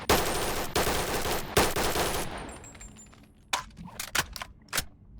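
A fully automatic M4A1 rifle fires in the VR game BONELAB, a dense rapid burst of gunfire for about two seconds, then a few scattered single shots and metallic clicks, loud and close.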